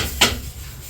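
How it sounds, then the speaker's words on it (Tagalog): Pancit habhab noodles set down onto a plate, heard as one brief, close clink of dishware followed by quiet. "yun pong pansit habhab ay ilalagay na po ni Seth sa pinggan"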